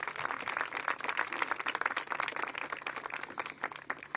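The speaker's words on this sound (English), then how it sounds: "Let's give Metropolitan Police Department a round of applause." Applause from an audience at a mayoral summer crime initiative event in Washington, DC, honoring the Metropolitan Police Department: a dense, steady patter of many hands clapping, fairly close and continuous throughout.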